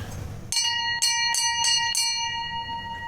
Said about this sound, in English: You want to ring a bell?